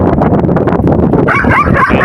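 A black mother dog guarding her puppies barks and yips loudly and close in rapid bursts, then gives a short whimpering cry near the end.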